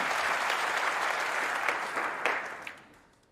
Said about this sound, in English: I'm sure he's going to get a big cheer as well to go with it